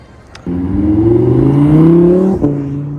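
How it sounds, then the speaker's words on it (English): An Audi R8 sports car passes close by, a loud engine drone swelling in pitch for about two seconds before cutting off abruptly, with no talking. "Got an R8 that just passed"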